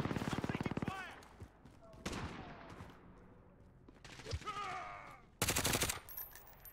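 In Call of Duty: Modern Warfare, automatic weapon fire erupts in rapid bursts: a fast rattling volley at the start, scattered shots and game chatter in the middle, then a loud close burst near the end.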